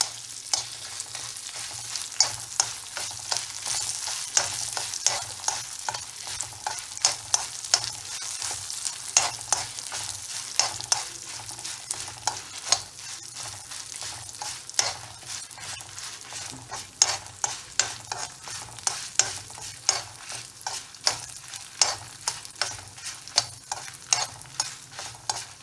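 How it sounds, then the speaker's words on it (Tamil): Urad dal, dried red chillies and asafoetida fry in hot oil in a pan, a steady crackling sizzle broken by frequent sharp pops and the scrape of stirring, close up with no talking. "மிளகாயை பொரிச்சப்புறம் பெருங்காயத்தை நல்லா பொரிஞ்சப்புறம் நம்ம உளுத்தம்பருப்பு மிளகா எல்லாம் போட்டுக்கலாம்"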